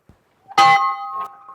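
A single entrance welcome bell in a ranch courtyard strikes with a bright clang and rings on, its tone slowly fading, after a few faint knocks before it.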